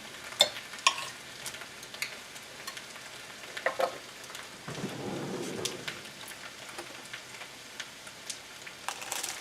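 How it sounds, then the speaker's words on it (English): Spaghetti frittata frying crisply in a pan, a soft steady sizzle with scattered sharp crackles and a denser hiss in the middle, heard alone at low level. "You can hear how nice and crispy spaghetti came."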